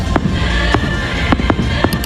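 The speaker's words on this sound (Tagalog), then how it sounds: "At nakanood pa ng fireworks display." Sharp firework bangs and crackles burst at irregular intervals over a constant crowd-like rumble at Tokyo Disneyland, loud and outdoors.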